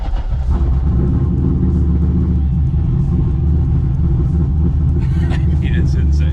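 A widebody Corvette with an LSX engine rumbles loudly while driving, a deep, steady low-frequency drone that fills the cabin, with a voice briefly heard near the end.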